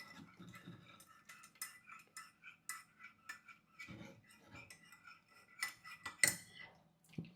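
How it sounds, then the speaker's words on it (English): A drink is mixed in a glass, with soft, irregular clinks and taps of a spoon against the glass, quiet and close, coming in short scattered bursts. "I'll mix again."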